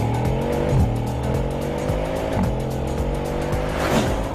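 A Bugatti Chiron accelerates hard, its engine note climbing steadily with repeated stepped gear changes, loud and close with a continuous roar and a faint tire squeal.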